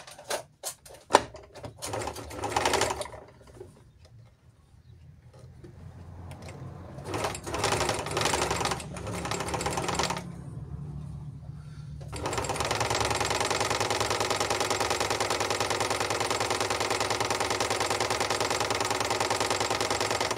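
A Panavox 482 DF overlock sewing machine with a broken looper and unadjusted tensions stitches in short rapid bursts, then runs in one long steady mechanical whir, close and fairly loud.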